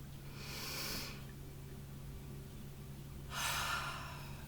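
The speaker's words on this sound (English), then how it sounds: "Take another deep breath." Two slow, deep breaths, each a soft airy rush, drawn in and let out near the microphone in a quiet room during a relaxation exercise, with a pause between them.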